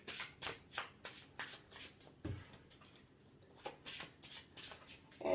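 Trading cards are shuffled back into a deck during a card-game duel: a close, fairly quiet series of quick riffling bursts in an irregular rhythm, with a brief pause partway through and no talking.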